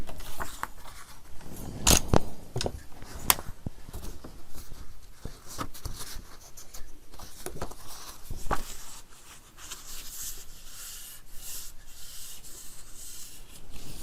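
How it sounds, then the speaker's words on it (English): A scoring tool drags across paper to make a fold line at half an inch, giving scattered scratchy rubs, soft taps and brief rasping strokes, close and fairly quiet over about fourteen seconds with no speech. "let's score this at 1/2 inch."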